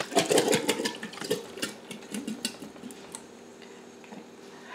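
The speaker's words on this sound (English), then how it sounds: "I'm taking 2 quarts of my dry canned potatoes, putting the potatoes in my pot" Home-canned dry potatoes, two quarts, tumbling into a preheating pot, giving a quick burst of clattering, knocking thuds up front, then scattered lighter taps and scrapes that fade toward the end.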